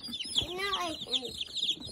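Baby chicks cheep in quick, high, repeated peeps at close range, with faint murmuring voices underneath.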